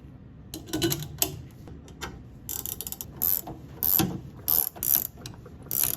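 Spring compressors cranked on a Volvo S40 suspension strut, a near run of sharp mechanical ratchet clicks in short irregular bursts with brief pauses between them, with no speech.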